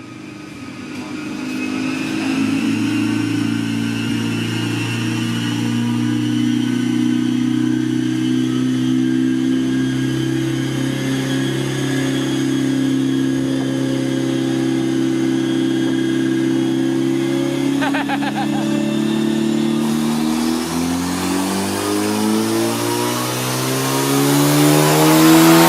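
Car engine on a dyno held at a sustained drone that slowly climbs in pitch, then sweeps sharply upward at the end of the pull, loud and steady with no talk.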